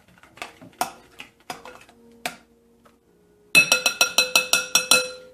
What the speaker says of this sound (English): I'm using a spoon, and I'm going to just stir this up until it's smooth.